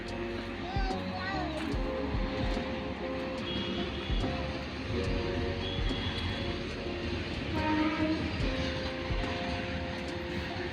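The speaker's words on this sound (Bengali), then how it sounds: "ট্রেন যাচ্ছে, দেখে দেয় দেখ।" A train rumbles past on the tracks in a low, continuous roar with clattering and a faint horn-like tone, while people talk nearby over it.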